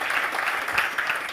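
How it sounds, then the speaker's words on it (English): A dense round of clapping from an audience at a public gathering, loud and close, sustained evenly throughout the short stretch. "let's give them a clap"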